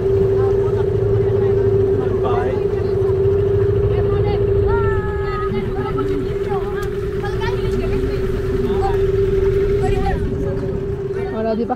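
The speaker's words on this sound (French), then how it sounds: "On a pris le bateau taxi." A water taxi motorboat pulls up to the pontoon of a sailing club in Dakar, its engine droning steadily and loudly throughout while people talk over it nearby.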